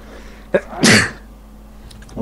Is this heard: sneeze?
yes